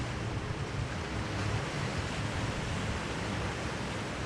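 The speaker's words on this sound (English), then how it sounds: "And looking down at the sea, they've got a few waves. Not too big, but definitely waves." Sea waves off Palmanova heard from a height, a steady broadband wash of surf blended with wind rumble on the microphone, continuous and without talking.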